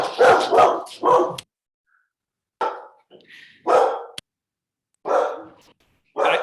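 A dog barks in several short, loud bursts close by, irregularly spaced with quiet gaps between them.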